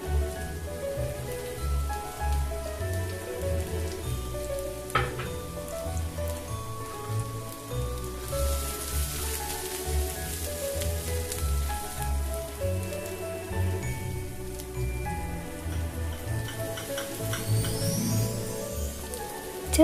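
Vegetables for a beef roll filling sauté in a pan with salt, a soft, steady sizzle and crackle like light rain, with faint stirring scrapes and quiet background tones throughout.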